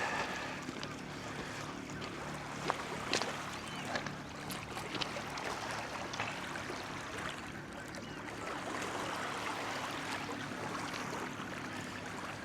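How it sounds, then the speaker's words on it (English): Water of Derwent Water in the Lake District washes against a stony lakeshore in a steady, soft rush of lapping and splashing, with light wind across the whole stretch. "Don't you just love to hear that sound of the water rolling up against the shore?"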